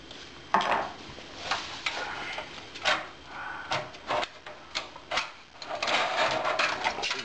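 An old computer power supply is worked loose and slid out of its case, producing a series of short scraping, clicking and rattling metal sounds, close and irregular, with no talk.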